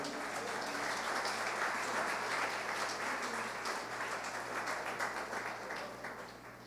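Church congregation breaking into sustained applause for God during a sermon, a dense, steady wash of clapping that holds strong throughout and begins to fade near the end, with a low hum underneath.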